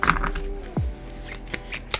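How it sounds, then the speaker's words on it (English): Riffle shuffle of a deck of cards at a tabletop game session: short rapid ruffling bursts with soft taps and shuffling rustle, close and fairly quiet, with no talking. "I will riffle shuffle this."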